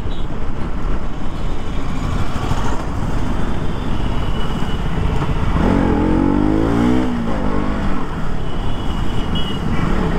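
A KTM RC motorcycle rides through Indian traffic, loud constant engine drone and wind rush with a rising rev in the middle, surrounded by road noise from nearby vehicles and no talk.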